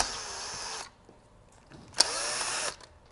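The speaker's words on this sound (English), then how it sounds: "what we're gonna do is remove the 2 bolts for the factory projector lens" Power drill removing the factory projector lens bolts from a 2022 Subaru WRX headlight: two short high-pitched whirring bursts separated by a quiet pause with faint clicks and handling noises.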